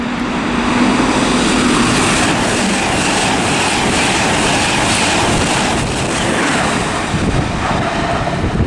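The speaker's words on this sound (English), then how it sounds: "next up we've got an LNER service passing through." An LNER passenger train roars through Stevenage station on the East Coast Main Line at speed, a loud broad rush of wheels and wind that holds steady, with a brief horn-like tone early on.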